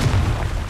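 Confringo blasting spell exploding in the Hogwarts Legacy game: a short, loud, deep boom with a rumbling tail, heard alone.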